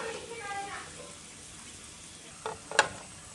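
Cashews and raisins frying in ghee for Thalassery mutton dum biryani, a faint, even sizzle beneath a person talking, ending in a couple of brief utensil knocks.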